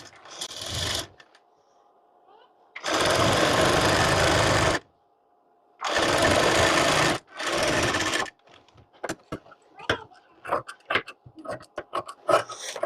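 A sewing machine stitching the side seam of a blouse runs in several loud, steady bursts of whirring separated by pauses, followed by a stretch of scattered clicks and handling noises.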